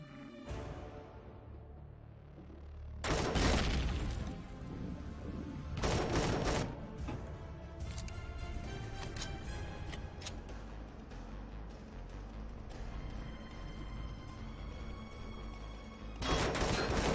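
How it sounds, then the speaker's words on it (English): Bursts of gunfire in the space-survival game Empyrion Galactic Survival, several loud volleys of rapid shots separated by steady mechanical hum and game ambience. "I'm shooting at your toes! Shooting at your toes!"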